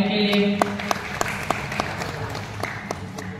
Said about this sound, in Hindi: आज एक बार जोरदार तालियां आर्यन के लिए